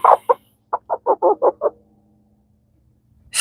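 Backyard homestead chickens, including a rooster, cluck in a quick rhythmic run of about eight close, clear clucks, followed by silence and then a sudden louder call at the end.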